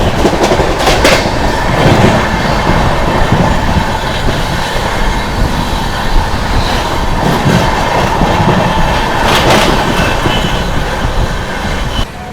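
The Sealdah–New Delhi Rajdhani Express, train 12313, rolls along the rails with a loud, steady rumble and rhythmic clatter, and its wheels squeal now and then throughout.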